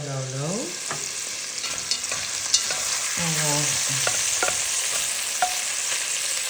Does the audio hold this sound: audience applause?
no